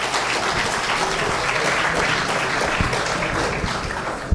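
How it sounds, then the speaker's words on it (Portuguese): Audience applause after a folk dance group's performance at a health institution's celebration, dense and steady clapping that fills the space for several seconds without letup. "Uma salva de palmas para eles"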